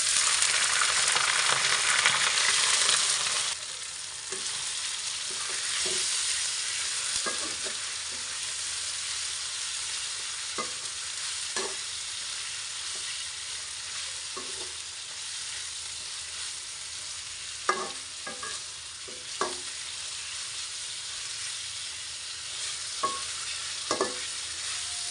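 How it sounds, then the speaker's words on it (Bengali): Chicken pieces fry in oil with crisp fried onions for Ramadan halim, a steady close sizzle with occasional sharp spatula scrapes and clinks against the pan, no talk. "এখন এই চিকেনগুলোকে পেঁয়াজের বেরেস্তার মধ্যে আমি ভেজে নিচ্ছি"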